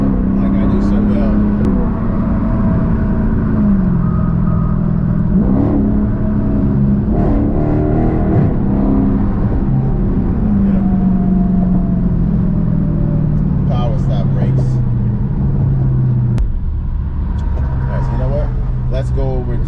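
A Dodge Charger/Challenger 392 Hellcat drives in track mode, its loud, steady engine drone rising and shifting through the gears, with someone talking over it.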